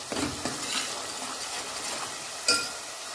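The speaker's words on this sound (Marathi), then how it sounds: "आता यामध्येच घालत आहोत आपण अद्रक आणि लसणाची पेस्ट। ती सुद्धा आपल्याला व्यवस्थित भाजून घ्यायची आहे।" Ginger-garlic paste frying in hot oil in a pan gives off a soft, steady sizzle, with light scraping as it is stirred and a sharper crackle near the end.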